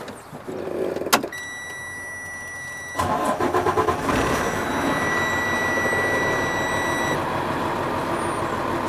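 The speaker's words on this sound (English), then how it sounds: "now I'm going to be turning on the vehicle, letting it build up to maximum capacity." Diesel engine on a CDL Class A truck with trailer cranks and starts, then settles into a steady idle as the air brake system builds pressure. A continuous whine runs over the engine, which is close and loud, with no talking.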